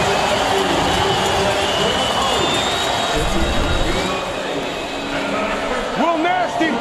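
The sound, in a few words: stadium crowd cheering at a CFL football game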